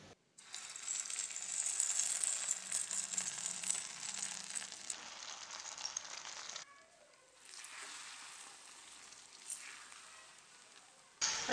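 Soaked semolina goes into a pan of frying Makhandi halwa with a steady, bright sizzle and crackle that drops away partway through and then carries on more quietly, with no talking.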